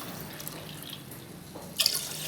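Water poured and dripping into a pot of washed rice for sugar and milk pongal, a quiet trickle with small drips and a brief brighter splash near the end.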